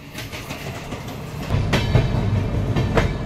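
A Bandra Terminus–Madgaon express train rolls past nearby at Vasai station with rhythmic clickety-clack of wheels on rail joints, growing louder halfway through.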